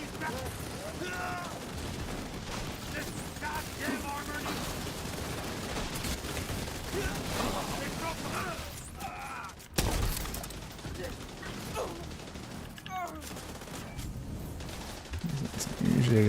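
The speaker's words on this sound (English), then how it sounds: "I hear gunfire." Gunfire in a PvE shooter video game, bursts of shots crackling continuously over busy game effects and music, with a sharp loud bang near the end.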